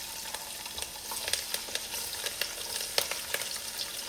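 Onions sizzling in a hot pot for ackee and codfish, a steady crackling fry with small pops and occasional stirring scrapes, close and moderately loud with no talking.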